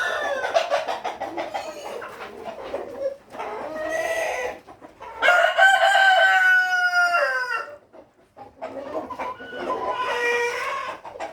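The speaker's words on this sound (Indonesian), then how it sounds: "ayam berkokok bersaling berganti" Several roosters crow in turn, long strained calls overlapping and following one another, close and loud, with brief clucking between.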